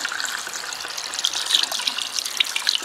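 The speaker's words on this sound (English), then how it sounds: "Then I am going to rinse." Hands being rinsed under a running tap during a handwashing procedure, a continuous close splashing trickle of water with slight fluctuations as the hands move through the stream.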